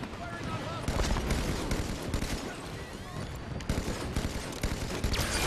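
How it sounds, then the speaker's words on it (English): Gunfire in the shooter game Halo 5 Warzone, a dense continuous barrage of shots and explosions at steady loudness throughout. "he's shooting at me"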